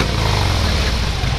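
A motorcycle engine roars loud and close at full throttle during an informal street race, a continuous gritty drone with no pauses.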